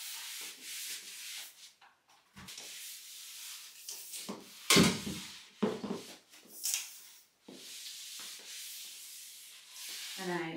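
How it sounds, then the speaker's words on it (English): A dry Swiffer-style cloth wiped across a floor, giving close rubbing, swishing strokes in irregular bursts with short pauses between them. "I'm going to spray the floor and wipe it."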